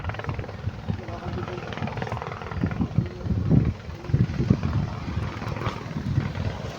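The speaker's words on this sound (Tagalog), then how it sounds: "Ambulance helicopter." An ambulance helicopter flying nearby outdoors, its steady rotor chop and engine drone droning continuously with wind buffeting, while people talk over it.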